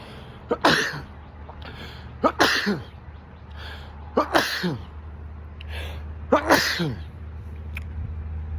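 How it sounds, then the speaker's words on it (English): Four sharp sneezes in a row, each with a quick inhale before the burst, close and fairly loud with a quiet pause between them. "Hold on, I got sneeze."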